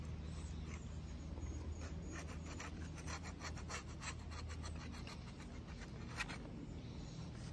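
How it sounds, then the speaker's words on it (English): A scraper drawn bevel side down across a cylinder head during restoration of a Mitsubishi Satoh S370 tractor, a faint, repeated rasping scrape in uneven strokes heard up close, with no talking. "We'll get this thing scraped down as best we can. Note again, use the bevel side, and it works better."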